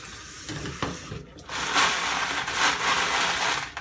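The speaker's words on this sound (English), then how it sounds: "So give it a little rinse." Spent 9mm brass casings rinsed in water, giving a steady wet swishing and clinking of metal cases being agitated, close and moderately loud without talk.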